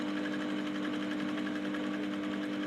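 A sewing machine stitches a corset with bra cups, giving a steady, continuous whirring hum with a fixed tonal drone that runs unbroken throughout.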